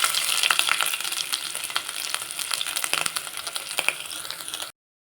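Ginger garlic paste fries in a hot pan for a vegetable semiya pulao, giving a loud, close, crackling sizzle with frequent sharp pops and spatters, then stopping abruptly.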